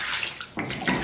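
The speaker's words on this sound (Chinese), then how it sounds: "接下来咱们给锅里边稍微来点水。" Water pours into an iron pan of braised beef ribs, a steady close splashing trickle that grows fuller partway through the short burst.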